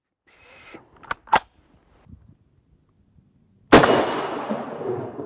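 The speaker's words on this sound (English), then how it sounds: "let me show you the shots that I shot across the chronograph with this SKS" A Chinese SKS rifle firing 7.62x39mm rounds gives a few sharp reports, two close cracks early and then one loud blast with a long fading tail, separated by quiet gaps.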